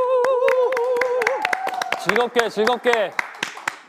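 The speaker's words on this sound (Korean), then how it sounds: "박수와 함께 시작했는데요." An audience claps at the start of a live Twitter Blueroom show with a Christmas Carol cast. Sharp, rhythmic claps land in quick succession under a voice chanting and speaking over them.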